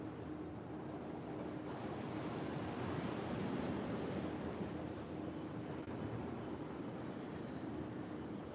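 Ocean surf washes in a steady, continuous rush of breaking waves, with a broad windy roar holding at an even level throughout and no voices.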